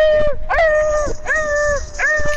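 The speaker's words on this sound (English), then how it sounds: "Kill the dog, damn it." A dog in the Rainbow Six Siege video game gives loud, close whining barks and yelps, three or four drawn-out tonal cries in quick succession, heard alone with no talking.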